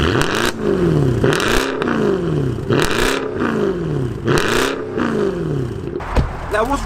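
Mercedes C63 AMG coupe engine revving hard in four loud, repeated bursts, each rising and falling quickly, close and alone, ending in crackles.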